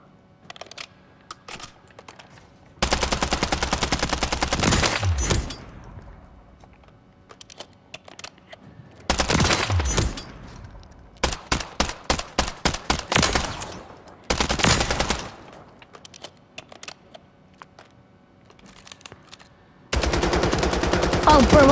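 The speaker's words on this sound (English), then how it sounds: "I just realized this submachine gun has like no recoil" Submachine gun firing in a Call of Duty firing range, with several loud bursts of rapid automatic fire separated by quiet gaps and one stretch of short choppy bursts.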